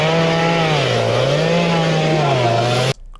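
A chainsaw run by a one-legged man cutting wood, its engine droning loud and steady with a wavering pitch as the throttle rises and falls, then cutting off abruptly near the end.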